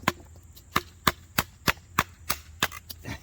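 A TRS Titan knife blade is struck with a wooden stick outdoors, giving about ten sharp, close wooden knocks in a fairly steady rhythm, with no talking.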